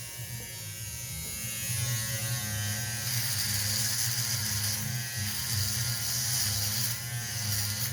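Electric razor buzzing steadily along the jawline of a beard, a close, continuous motor hum with slight shifts in pitch as it moves against the grain.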